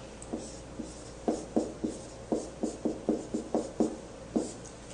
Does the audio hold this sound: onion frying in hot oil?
no